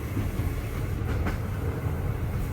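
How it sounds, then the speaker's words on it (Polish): Steady rumbling interior noise of a TLK Zamoyski passenger train running on rails from Krasnystaw toward Lublin, a continuous loud low drone with faint wheel clatter, no voices. "No i jesteśmy w pociągu, jest fajnie."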